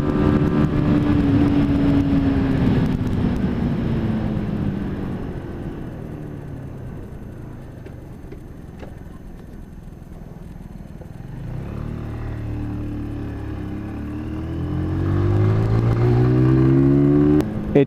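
A Lexmoto ZSX motorcycle is ridden, its engine revving up loudly, easing off into a quieter steady hum, then climbing again through the gears near the end.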